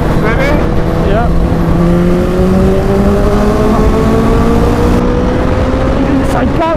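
An engine holds at about 5,000 rpm in fifth gear, a loud, steady, close drone whose pitch slowly climbs, with wind rush and voices over it.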